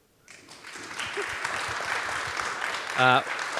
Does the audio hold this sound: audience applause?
yes